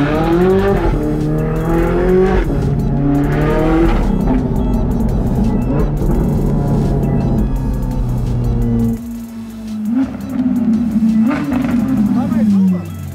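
A Ferrari 458 and a Nissan GTR race side by side, engines roaring and climbing through revs with tire squeal, loud and sustained before a brief dip and another surge.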